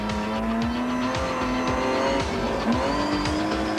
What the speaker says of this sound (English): it was sideways action from Kuhn that the crowd wanted